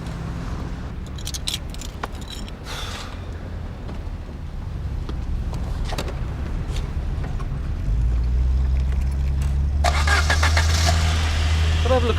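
A car engine turns over and settles into a steady low idle, the rumble growing louder and fuller toward the end, with brief speech over the top in a roadside police check of a car's clutch.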